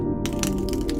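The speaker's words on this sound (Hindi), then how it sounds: "गोली चलने की आवाज थी।" A sharp, loud gunshot sound effect cracks in after a brief lull, followed by a few more rough impacts over a steady low rumble.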